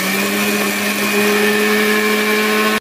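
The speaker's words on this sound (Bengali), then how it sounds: "আসুন এবার মিক্সিতে ভালো করে গুঁড়ো করে নেব।" A mixer grinder grinds roasted whole spices in one loud, steady motor whine that runs close and unbroken to the end, with no voices.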